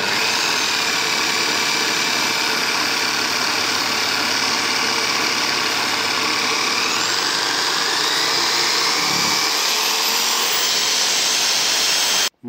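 A Parkside Performance PPFS 1250 A1 230 V sabre saw runs with a loud, steady motor whine close by, cutting off abruptly at the very end.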